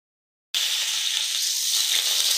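Garlic hits hot oil in a pan to start frying bele greens, a loud, steady sizzle that bursts in abruptly after a half-second of silence and keeps hissing evenly to the end.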